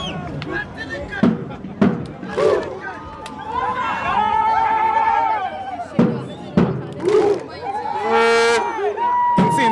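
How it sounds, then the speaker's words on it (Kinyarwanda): Football fans of Rayon Sports in a large crowd cheer, shout and chant loudly in bursts, with whoops and sharp claps breaking through the steady roar of voices. "Amashyi y'abafana."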